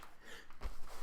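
A single short sneeze bursts out about two-thirds of the way through, near and fairly loud, with a breathy intake before it and no talking.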